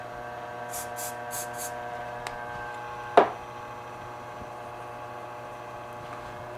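Short burst of CA glue activator sprayed onto a pen blank in a woodworking shop, a brief sharp hiss standing out once over the steady hum of a running lathe motor, preceded by faint tapping.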